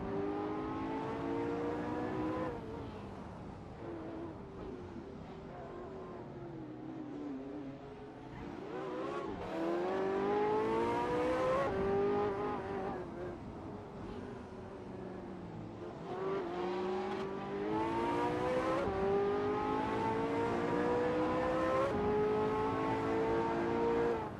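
Supercar race engines in an AI-controlled race, high-pitched engines revving and shifting up through the gears, rising and falling in repeated acceleration sweeps, loud and continuous with overlapping cars.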